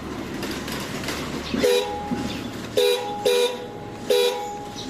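A newly installed vehicle horn gives four short, thin honks of uneven length over steady background rumble, with a faint voice in the background.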